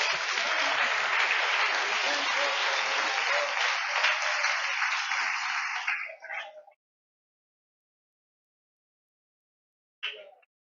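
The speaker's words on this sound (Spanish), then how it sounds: "Denle un aplauso a Cristo Jesús." A church congregation applauds in praise to Christ, dense and loud for about six seconds before stopping abruptly, followed by silence and a short final burst.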